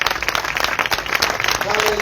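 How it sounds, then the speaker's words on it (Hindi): A church congregation at a live Pentecostal-style meeting in Karachi applauds loudly, dense continuous clapping filling the space from start to finish. "आए जोरदार तालियां।"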